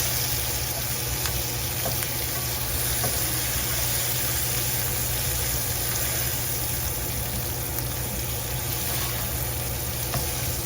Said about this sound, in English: I'm still just cooking down the onions